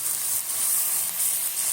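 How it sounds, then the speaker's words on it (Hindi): Masala spices, with a splash of water added, fry in a pan for aloo gosht, giving a steady close bright sizzle that holds without a break. "मसाले को अच्छी तरह भून लूँगी।"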